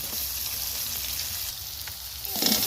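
Onion, garlic paste and tomato frying in hot oil for a duck curry, giving a steady soft sizzle with a slight stirring scrape near the end.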